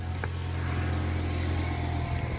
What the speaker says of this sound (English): Start your engine, let it warm up a little bit.